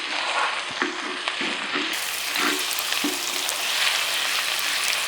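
Red onion fries in a pan with a continuous bright sizzling hiss, broken by a few soft knocks and clicks.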